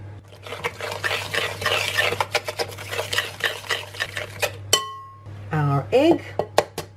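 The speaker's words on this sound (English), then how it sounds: "and we'll give that a good mix through" Cookie batter with vanilla being stirred in a mixing bowl, a steady run of close scraping and clinking strokes, with a brief hum and a bit of voice-like sound near the end.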